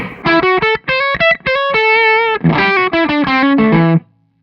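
An electric guitar through a Cornford Carrera amp plays a quick run of single notes, sustained and slightly overdriven, with short gaps between phrases before ringing out.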